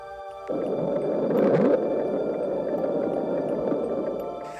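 A deep, sustained rumbling drone with a brief upward sweep, eerie and continuous, fairly loud with no voices: the Bloop, a low-frequency sound recorded in a remote part of the Pacific Ocean.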